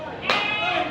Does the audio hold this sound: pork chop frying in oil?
no